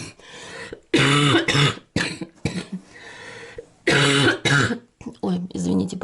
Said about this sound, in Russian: Кашель у меня еще не прошел.